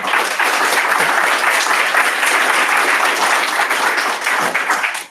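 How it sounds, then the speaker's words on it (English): Loud, dense applause from a room of attendees at a tech meetup, many hands clapping steadily for about five seconds before tapering off at the end, without speech over it. "Applause for Josh."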